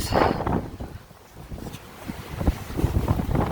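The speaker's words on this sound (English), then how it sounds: "The wind is just, my cushion cover here has become a fan and flag." Strong outdoor wind gusts buffet the microphone and flap a loose wheelchair cushion cover, a rough roaring rush with irregular fluttering thumps, close and fairly loud, with no speech.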